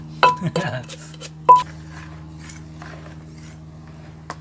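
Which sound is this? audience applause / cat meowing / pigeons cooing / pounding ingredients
pounding ingredients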